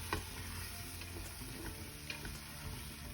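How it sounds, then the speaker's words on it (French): Ginger stirred into sizzling meat juices in a pan, a steady close frying hiss with occasional scraping and clicking of the spoon as everything is turned to brown. "pas hésiter à bien tourner pour que tout se colore en entier"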